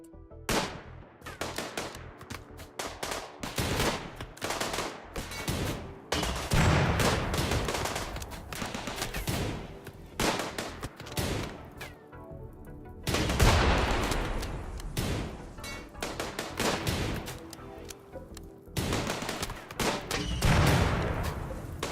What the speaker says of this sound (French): Le lanceur de balles en tir.